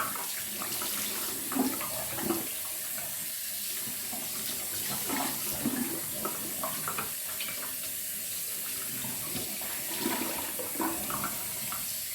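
Warm tap water runs steadily into a bathroom sink during face rinsing, with a continuous splashing flow broken by a few louder splashes as the face is rinsed, and no talking.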